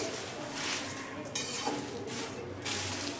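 Masala puffed rice being stirred and tossed in a hot kadai: continuous dry rustling and scraping, with periodic louder swishes as the grains are turned over.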